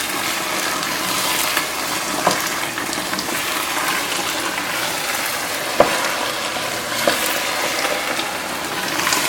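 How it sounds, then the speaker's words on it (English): Potato and spinach frying in a pan for aloo palak keep up a steady, close sizzle, with light scraping and clicks as the food is stirred. "Keep stirring."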